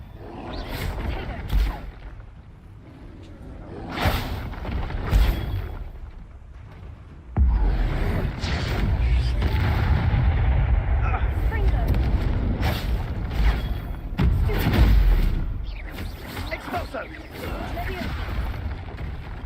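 Incendio fire spell cast in Hogwarts Legacy amid combat, with loud booming bursts and roaring flame that builds into a long sustained blaze, punctuated by sharp impacts.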